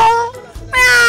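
A voice mimics a cat, giving two drawn-out, nasal meows separated by a brief pause, close and fairly loud.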